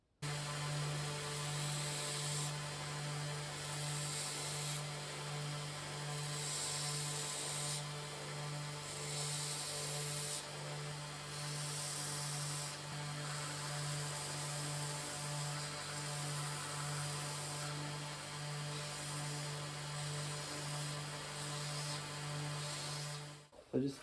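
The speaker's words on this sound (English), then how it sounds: "I'm just gonna go over to the belt grinder and just grind this down" A belt grinder grinds down a metal part for a two-stroke Yamaha outboard steering joint. It gives a continuous, even hum with a steady abrasive hiss that barely changes for the whole stretch and cuts off at the end.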